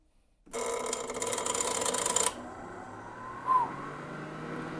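A vintage LGP-21 computer's disc drive powers up: a loud broadband whir starts abruptly and holds steady for about two seconds, then drops to a lower, continuous mechanical hum with a brief chirp from the start relay.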